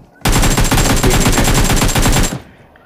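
A sustained burst of rapid automatic gunfire in the mobile game PUBG Mobile, loud and close, rattling evenly for about two seconds before cutting off.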